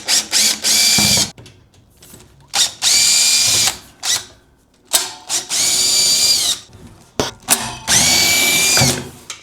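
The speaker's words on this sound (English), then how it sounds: "I had to use an impact to get those out" An impact driver backs screws out of a Primeweld 225x welder in several loud, close bursts of whirring and rattling hammering, separated by short gaps and quieter handling noises.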